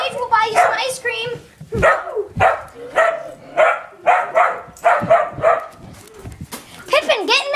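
Dog barking repeatedly in a home, close and loud, sharp barks mixed with whimpering yips amid excited children's voices and talk.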